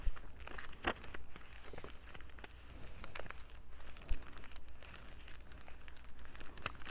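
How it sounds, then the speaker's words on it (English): Paper is torn and peeled out of a junk journal made from coffee filters, paper bags and corrugated cardboard, giving close, continuous crinkling and crackling with a few sharper rips and snaps, without talk. "we can remove the paper"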